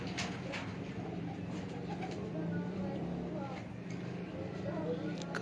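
Pigeons cooing softly in a continuous low murmur at a golden pigeon breeding setup, with faint background noise throughout and no clear break in the sound.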